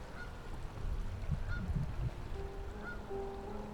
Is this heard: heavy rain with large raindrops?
no